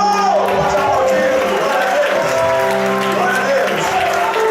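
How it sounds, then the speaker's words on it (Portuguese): A youth congress congregation in a church applauds steadily, a loud wash of clapping and crowd noise lasting the whole moment, with sustained tones and voices mixed in. "pode aplaudir"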